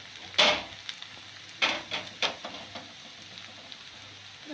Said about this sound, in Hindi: और अब ये देसी घी रह गया, ये भी मैं डाल देती हूँ इसमें।